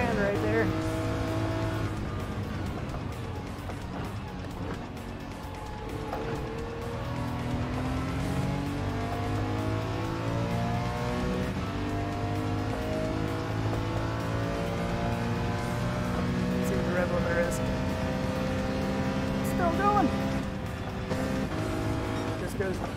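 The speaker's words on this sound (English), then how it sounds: "Just past 9 and then hits the rev limiter." A car engine in the video game Gran Turismo 7 revs up through the range toward the rev limiter, a climbing, wavering engine tone with faint tire squeal, heard beneath someone talking.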